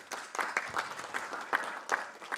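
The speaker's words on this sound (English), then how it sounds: "So if we can also give the team a round of applause" Audience applause at a professorial inauguration ceremony for a Faculty of Science, honoring the faculty team; scattered, fairly quiet clapping with a few sharper claps standing out, steady over a couple of seconds.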